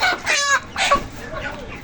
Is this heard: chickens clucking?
yes